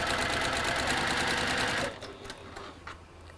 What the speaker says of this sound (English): we're now going to sew on the line this time